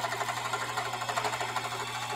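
A sewing machine runs steadily and up close, stitching an eighth-inch seam on a spring tote bag with a fast, even mechanical whir.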